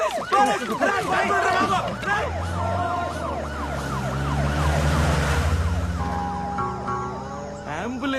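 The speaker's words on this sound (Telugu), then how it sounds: "అంబులెన్స్ రా." An ambulance siren wails close and loud in rising and falling sweeps with engine noise beneath, in a comedy scene from a Telugu film, and people talk over it.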